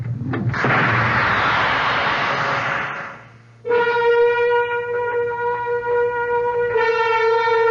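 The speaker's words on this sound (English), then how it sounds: "They said something about an overload, an explosion." An explosion sound effect in a radio drama: a loud, close blast with a long roaring burst that fades out, followed by a sustained harmonic tone like a musical sting or electronic hum.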